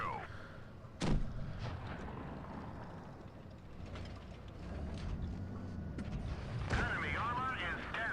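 Tank cannon fire in World of Tanks Blitz, a sharp booming shot followed by later blasts and clanking mechanical sounds, heard under a voice talking.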